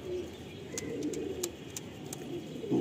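Tippler pigeons coo in low, rolling murmurs, faint and close, with a few sharp brief clicks scattered through.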